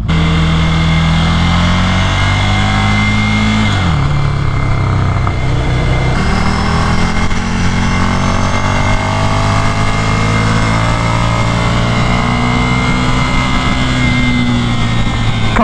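A Ducati Scrambler motorcycle engine drones loud and close on a race track, pitch dropping sharply as it shifts, then climbing steadily under sustained throttle.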